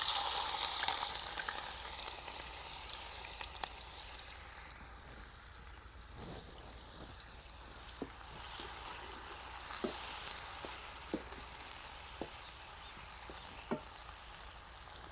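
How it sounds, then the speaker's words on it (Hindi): Onions fry in hot oil in a home kitchen, giving a steady, close sizzle throughout with a few faint stirring clicks, and no talking. "तो यहाँ पे जो है ऑयल में प्याज़ों को डाल देते हैं और इनको फ्राई कर लेते हैं।"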